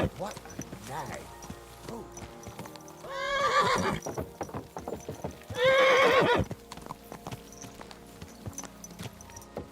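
Horse hooves clip-clop steadily through a medieval game scene in Kingdom Come Deliverance 2, broken by two loud, drawn-out neighs; background game sounds and music sit underneath.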